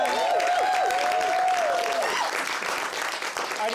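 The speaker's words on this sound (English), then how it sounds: "Can we have a round of applause?" Audience applause for a live band at a musical theatre reading, steady loud clapping from a crowd with a sustained whistle-like tone early on, continuing throughout.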